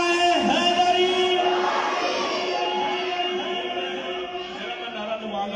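Crowd at a religious gathering in Sialkot loudly shouting slogans in unison, a dense chorus of many voices close by, fading slightly toward the end.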